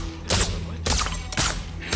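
Gunfire in the video game Deathloop, three loud, sharp broadband blasts spaced about half a second apart, each with a brief decaying tail over a steady low game hum.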